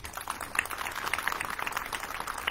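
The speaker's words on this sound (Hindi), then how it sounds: "जोरदार तालियां होनी चाहिए इनको" An audience of parents at a school parenting session applauding, a steady wash of many hands clapping at moderate distance, fairly soft and continuous.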